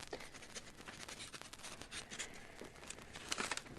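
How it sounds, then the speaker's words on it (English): A pen scratches an address onto paper, a continuous soft scribbling of quick strokes close by with no talk. "I'll write it down for you."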